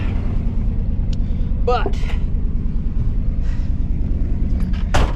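A K5 Blazer engine runs with a steady low rumble while driving, its carburetor prone to sticking as if the choke were on; a person briefly speaks over the drone.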